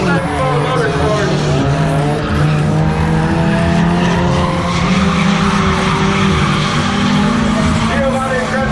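Drifting tuner cars at a motorsports festival scream around a banked track, tires squealing in long sustained howls over loud revving engines, while an announcer talks over the action.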